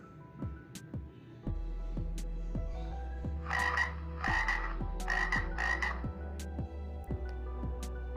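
A frog croaks repeatedly in a steady rhythm, loud and close, with bursts of a raspier, higher chorus joining midway.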